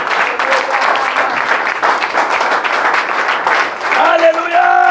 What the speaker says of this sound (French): Continue à applaudir pour le Seigneur.